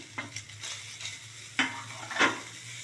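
Cut egg pieces stirred into chicken masala with onion and curry leaves frying in a pan, producing a soft background sizzle broken by several sharp scraping stir strokes, close up, with no voices.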